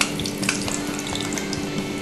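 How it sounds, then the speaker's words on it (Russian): Food is lowered into hot oil in a frying pan on a cooking show, producing a steady, close hiss of sizzling and bubbling that runs unbroken throughout with no speech. "Вкладываем на сковородку. в горячее масло."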